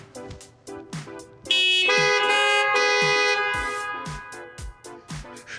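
Car horns honk in a comic horn orchestra routine, with short rhythmic toots giving way to several horns blaring together in a long sustained chord, then returning to choppy beeps.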